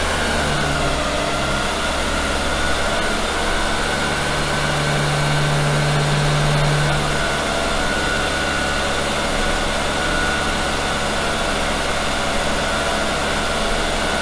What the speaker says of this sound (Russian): Нам сейчас нужно как следует разогреть мотор,